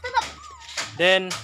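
A pet dog whimpers and lets out high yips, with whiny tonal cries between bursts, while a person talks over it close by.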